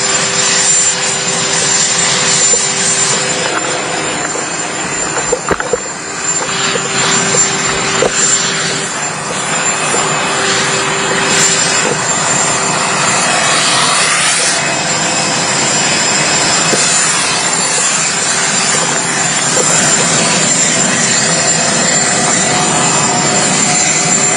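Steady roar of jet aircraft taxiing and arriving at Calgary Airport as world leaders fly in, a continuous loud engine drone with whining tones and no speech.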